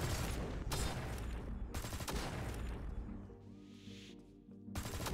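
LMG gunfire in a DOOM-like video game, loud rapid automatic bursts in three stretches separated by brief pauses, with game sounds in between.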